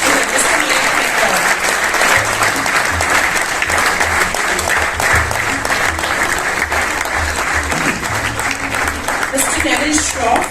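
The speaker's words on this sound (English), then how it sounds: "So a big round of applause for him, Mr. Mayank Mehta." Dense, loud audience applause continues unbroken for a platelet donor, Mr. Mayank Mehta, at an event honoring donors, with a thick wash of many hands clapping.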